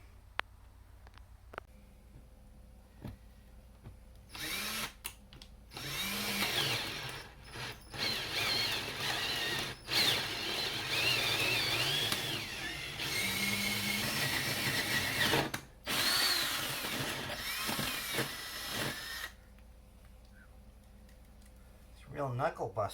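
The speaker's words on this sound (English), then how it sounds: "I'll drill about a 3/4 inch hole to pass the gas line through" A power drill bores a 3/4 inch hole for a gas line at a cabin, whirring in long loud bursts with short pauses between, while a person talks over it.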